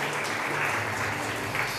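Church congregation clapping in praise of God, a steady, dense wash of applause filling the room with a low hum beneath it.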